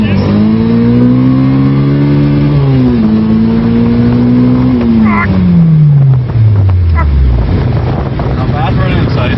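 A K20 engine-swapped Honda Insight accelerates hard, its engine note climbing steadily through the gears with a brief dip at a shift, then dropping away as the revs fall, all under constant wind buffeting on the microphone.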